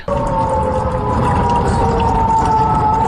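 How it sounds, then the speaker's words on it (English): A loud, sustained wailing air raid siren with a steady droning tone near the U.S. consulate complex near Erbil in northern Iraq, running unbroken for a few seconds before cutting off abruptly. "Those are the air raid sirens."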